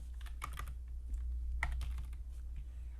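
Code is typed on a computer keyboard in quick, uneven bursts of soft key clicks over a low steady hum. It is close and quiet, with no talking.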